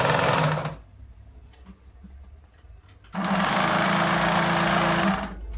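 A sewing machine stitches straight pants in two loud, close bursts of fast whirring. A short run is followed by a pause with quiet handling noises, then a longer run of about two seconds.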